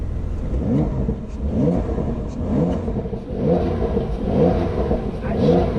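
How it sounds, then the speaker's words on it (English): A 2019 Porsche 911 (992) Carrera 4S engine in sport mode revs repeatedly in rising and falling surges, the exhaust note crackling and popping as it comes off each pull, close and loud. "I found that being in sport is actually, for an engine note, the nicer. Get the pops, listen."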